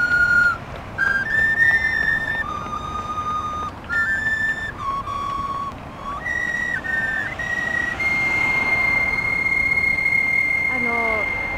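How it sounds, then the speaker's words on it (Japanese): Ocarina melody played outdoors beside a marathon course in the Matsushiro area of Nagano, clear sustained notes rising and stepping between pitches over a busy crowd murmur, with people talking in the background. "このオカリナの音色で皆さんを応援しようというこの発想"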